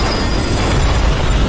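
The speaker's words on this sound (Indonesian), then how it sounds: "Ada sebuah kereta yang terbakar dan tanpa kendali menabrak gerbong kereta lainnya, yang mengakibatkan jalan tertutup." Loud, continuous rumbling roar of a burning, runaway train smashing into other railway carriages in the Korean zombie film Train to Busan, dense low-end noise sustained throughout with no pauses.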